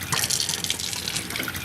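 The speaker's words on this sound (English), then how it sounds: "I always put the cold water on just to counteract all the hot steam" Cold tap water streaming into a kitchen sink over a colander of just-drained hot rice, a steady close splashing gush lasting under two seconds with no talk.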